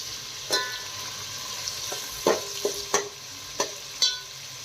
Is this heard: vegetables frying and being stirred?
yes